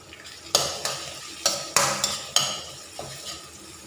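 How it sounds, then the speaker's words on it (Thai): Pounded chili and garlic stir-fried in a little oil for frog curry: a series of sharp scraping strokes of a spatula against the pan over a soft sizzle, close and regular, with no talk. "น้ำมันเล็กน้อย ตามด้วยพริกกระเทียมที่เราตำเนาะใส่ลงไป ผัดให้หอม"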